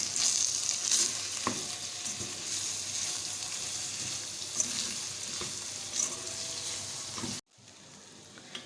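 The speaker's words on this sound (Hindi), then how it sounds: "ये देखिए हमने अच्छे से फ्राई कर लिया है गोश्त को" Mutton fries with whole spices and green chillies in a steady, close sizzle with occasional stirring scrapes, cutting off abruptly near the end.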